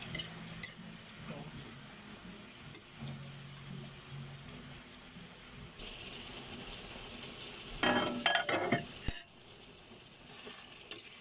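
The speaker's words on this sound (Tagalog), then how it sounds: "Adobo lang pala guys ang ating ginawang loto, no?" Adobo sizzling gently in a pan while a utensil stirs and scrapes now and then, with a burst of clattering and louder stirring near the end, close and with no talking.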